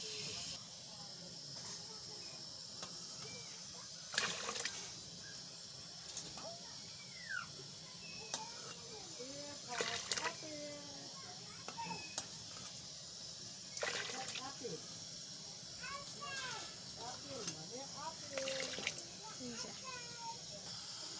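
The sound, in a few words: potatoes boiling in water in a pot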